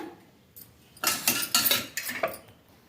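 Oil going into the cups of a metal paniyaram (ponganalu) pan, heard as a quick cluster of close, bright metallic clinks and scrapes over about a second and a half, with quiet moments before and after.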